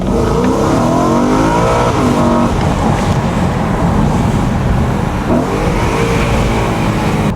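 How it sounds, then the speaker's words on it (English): A convertible BMW M3 V8 engine revs loudly up and down, its growling pitch rising in sweeps, close by and alone. "you get a convertible V8 M3 that sounds like this"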